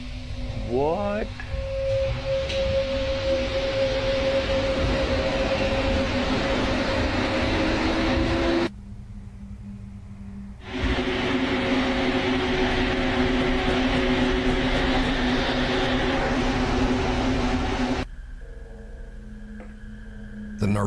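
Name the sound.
Mexico City subway train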